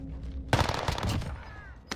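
Video game gunfire in a rapid burst of shots, loud and close, starting partway through and followed by a brief final shot after a lull.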